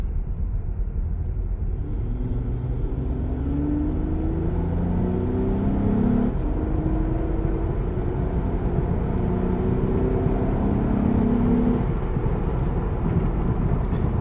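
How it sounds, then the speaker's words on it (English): A 2013 Acura TSX V6 with VTEC accelerates on a road, its engine note climbing steadily through the revs as a continuous, close rumble with a rising whine and no one speaking. "You can kind of hear the VTEC kick in there as it revs up."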